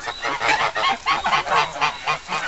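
Geese and ducks honk in a rapid, repeated chorus at an animal sanctuary, loud and close with overlapping calls throughout.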